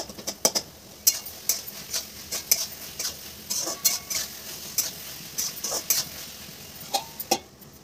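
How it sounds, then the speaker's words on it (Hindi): Tomatoes being mashed and mixed in a cooking pan, a close series of irregular soft taps and scrapes from a spoon, with quiet pauses between strokes. "टमाटर को थोड़ा मसल दें और मिक्स कर लें।"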